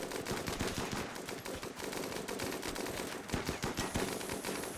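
Sustained rapid machine-gun fire from a turret in the video game RimWorld, dense and loud, with continuous overlapping bursts of shots throughout.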